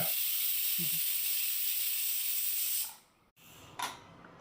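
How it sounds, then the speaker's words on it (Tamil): A pressure cooker of mutton on a full-flame stove vents steam in a loud, continuous hiss that cuts off after about three seconds, followed by a brief soft clatter and puff. "குக்கரை மூடி போட்டு மூடிடலாம் அடுப்பு வந்து ஃபுல் ஃப்ளேம்லேயே இருக்கட்டும் ஏழுலேருந்து எட்டு விசில் வரைக்கும் விடுங்க"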